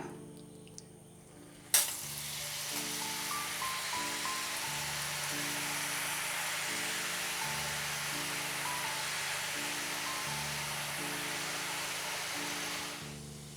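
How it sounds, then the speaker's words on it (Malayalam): Bombay mixture dough pressed from a press into hot oil hisses in a steady, broad sizzle that starts abruptly and holds for about ten seconds, with a repeating musical tone underneath and no talk. "ഇപ്പം എണ്ണ നന്നായിട്ട് ചൂടായിട്ടുണ്ട് അപ്പം നമ്മൾ കുഴച്ചെടുത്ത മാവ് നമുക്ക് സേവനാഴിയിലേക്ക് ഇട്ട് കൊടുക്കാം നമ്മുടെ എണ്ണയിലേക്ക് നമുക്കിത് ഇട്ട് കൊടുക്കാം"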